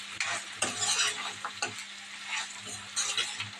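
Tomato pieces and broad beans frying in a non-stick pan, with a steady sizzle broken by repeated scraping stirs of a spatula, close and fairly loud, no talking.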